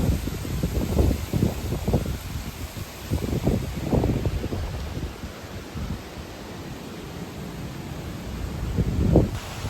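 Strong storm wind buffets the microphone in heavy, rumbling gusts that rise and fall throughout, with a steady hiss underneath and no voices.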